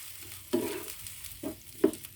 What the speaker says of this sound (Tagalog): At halu-haluin ng konti.